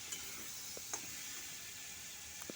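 Kohlrabi and potatoes fry in a pan with salt and tomatoes, giving a steady close hiss with a few soft scraping knocks of stirring.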